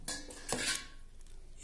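A spoon stirs green onion raita with a Rajasthani tempering in a bowl, making a few close metallic clinks and scrapes with quiet pauses between them.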